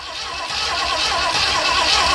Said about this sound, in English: I cranked the engine over a few more times